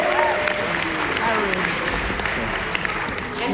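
Audience applause at a jazz concert in Chicago, with dense steady clapping and cheering filling the hall throughout, loud and close, with a few shouts breaking through.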